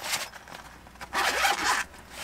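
A zipper is drawn open around the small carrying case of an iCarsoft CP scanner, a close, steady zipping in two main pulls.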